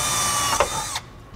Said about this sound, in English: we're going to use a 1/8 inch drill bit to make pilot holes